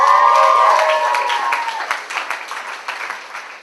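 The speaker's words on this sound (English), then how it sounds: "give a huge, huge round of applause for Raegan Sealy" A student comedy show crowd claps and cheers loudly for a performer taking the stage, the applause thinning and fading over a few seconds.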